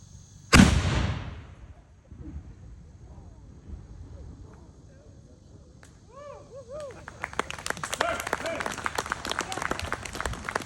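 A firearm is fired on command at a historical demonstration: one loud, sharp report that rings out and decays, followed by quieter crowd sounds, people talking and a burst of clapping-like crackle toward the end.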